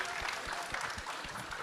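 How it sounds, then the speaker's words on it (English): Applause from a panel audience at a financial event, cheering a Super Bowl-winning player, steady dense clapping throughout with voices mixed in beneath. "Let's go and clap that up real quick."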